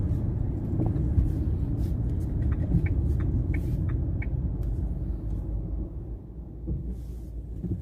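A Dacia car engine idles in neutral with the air conditioning switched on, a steady low rumble and hum held close and continuous, with faint brief ticks above it.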